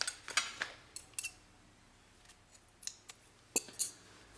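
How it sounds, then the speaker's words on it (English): Scissors snip crochet yarn in a run of quick, close, crisp clicks, some in pairs, with brief pauses between them and a quiet background. "then I'll cut this yarn."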